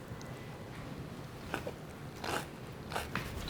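A few crisp crunchy bites of a salad with corn, cheese and chips, close up, spaced out over a few seconds against a low background hum, with no talking.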